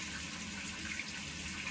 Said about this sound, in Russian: Вот, пошел у нас душ.